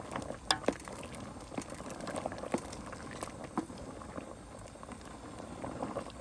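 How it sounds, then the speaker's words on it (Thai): Water boiling hard in a pot, a steady close bubbling roar dotted with small irregular pops and splashes, with no voices. "เดือดแล้วครับ"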